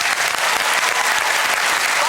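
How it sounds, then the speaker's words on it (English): Studio audience on a comedy panel show bursts into steady, dense applause that fills the whole short stretch at an even, loud level. "Round of applause for her"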